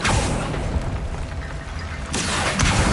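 Confringo explosive spell blasting in Hogwarts Legacy, a loud, dense booming burst that runs throughout, dips briefly, then surges again near the end.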